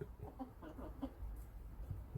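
Young grey chicks peeping softly in a small brooder cage, a few faint, scattered chirps over a low background hum.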